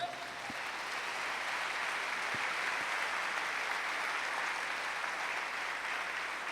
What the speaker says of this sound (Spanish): ¿Cuánto le dan un aplauso al Señor?